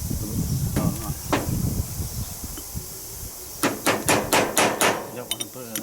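Sharp metal hammer taps ring out while work is done on the front differential of a 2007 Suzuki 450 LTA-X ATV, a few scattered strikes early, then a quick run of about six close blows, with faint talk in the workshop.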